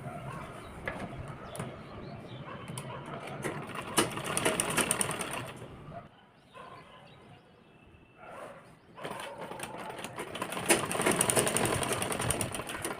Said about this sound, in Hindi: और मिलाने के बाद हम एक पैर की यहाँ पे सिलाई लगा लेंगे।